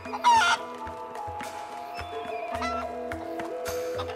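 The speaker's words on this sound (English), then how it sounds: "A chicken? Not a rooster? A chicken? I'm not laughing. I'm pecking." A chicken in Grand Theft Auto V clucking and squawking, with a loud burst at the start followed by repeated short clucks over a continuous game background hum.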